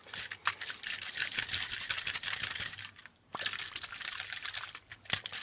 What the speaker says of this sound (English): It makes really fizzy noises.